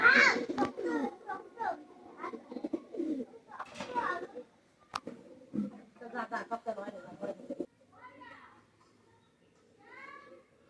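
A golden pair of Pakistani Teddy pigeons coos softly; someone talks over most of the stretch, and a few clear rolling coos come through near the end.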